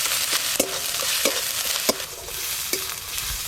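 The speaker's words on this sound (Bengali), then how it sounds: "এবার আদা রসুন বাটা দিয়ে আর একটু ভালো করে ভেজে নেব" Chopped onions with ginger-garlic paste fry in a pan, a steady hiss and sizzle broken by a handful of scraping stirs at irregular intervals, close and fairly loud, with no voices.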